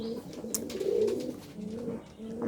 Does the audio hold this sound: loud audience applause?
no